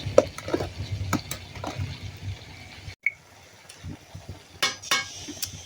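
Onion, chili and bottle gourd fry in oil in a pan, with a soft sizzle and scattered utensil clinks and scrapes as the mix is stirred, pausing briefly midway.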